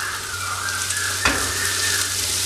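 Sliced onion, green chilli, ginger and garlic sautéing in a pan for a quick chicken snack: an even, loud sizzle with a faint steady hum beneath and a single stirring scrape midway.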